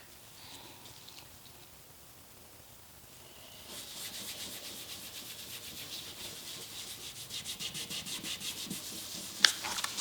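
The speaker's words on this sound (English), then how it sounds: "these circular motions are going to better control for getting it down into all of the kind of little nooks and crannies that are inherent on this oak" Cloth rubbing wood stain into an oak cabinet in circular motions: a quiet, soft scrubbing that becomes louder and steady partway through, with a faint tick near the end and no voices.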